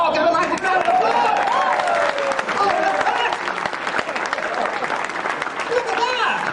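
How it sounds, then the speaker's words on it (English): A live studio audience bursts into a loud, sustained round of applause and cheering that fills the whole stretch, with crowd voices mixed into the clapping. "give a nice round of applause!"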